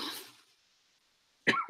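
One sharp, brief cough bursts out after near silence, close and fairly loud, following a softer breathy sound at the start.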